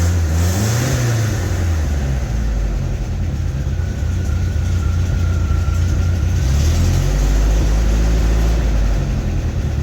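A classic MG MGB's engine runs loudly and close, a deep steady idle with a couple of rises and falls in revs, no talking.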